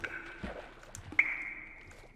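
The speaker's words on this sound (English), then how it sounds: "I just hear water dripping and it's kind of scaring me" Sparse water drips in a Minecraft underwater level, a few soft plinks early on and then one clear, ringing drop near the middle that lingers as a fading tone, heard alone with no talk.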